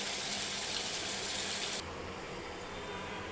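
Running water gushes steadily from a tap while vegetables for a curry are rinsed, the flow loud at first then dropping to a softer, lower stream partway through, with no talking.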